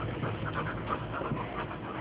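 Several dogs panting in quick, steady rhythm, close to the microphone, with soft breathy noise continuing throughout and no talking.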